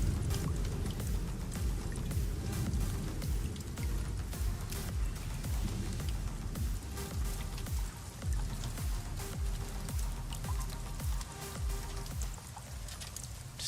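Water droplets drip and trickle steadily through a cave in a purple-hued alien system, a video game ambience of many close, irregular patters layered over a low, continuous hum, with no voices.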